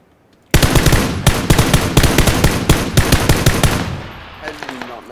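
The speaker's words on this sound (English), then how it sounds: "I did not know where you were shooting." Sustained automatic gunfire in PUBG Battlegrounds, loud and close, with rapid bursts of shots rattling for several seconds before easing into scattered fainter sounds near the end.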